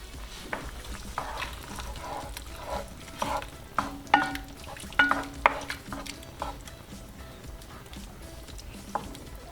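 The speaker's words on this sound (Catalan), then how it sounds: "I ho remenarem una miqueta." Cod and potatoes stirred in a pan on the heat: a low sizzle runs underneath while a spoon scrapes and knocks against the pan in irregular strokes, some louder clacks standing out.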